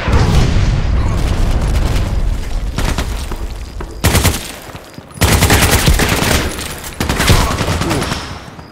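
Shotgun fire in the video game Contract Wars on the Station map, heavy booming blasts arriving in separate bursts with short gaps between them, loud and close.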